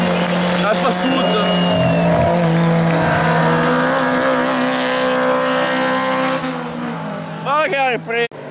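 Alfa Sud race car driving past at a hill climb race in Vallecamonica, its engine loud and close with a rising and falling pitch as it passes, crowd voices talking nearby.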